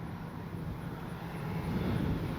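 A small CNHL Horten 229 radio-controlled flying-wing plane with electric ducted fans comes in to land, giving a steady, moderate whooshing drone with some wind rush that swells slightly toward the end, with no talk.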